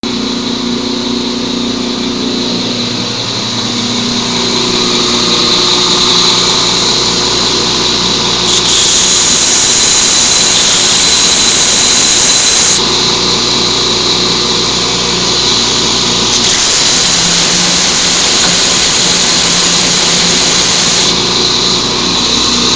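A grinder works on titanium tubing while shaping knife handles, throwing white sparks: a loud, continuous high-pitched motor whine and abrasive hiss whose pitch and pressure shift as the tool bears down and eases off in stages.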